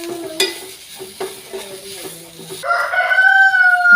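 Crushed jackfruit is stirred in a pan with scattered soft scrapes and a low sizzle, close by, as a rooster crows in the background and then louder near the end.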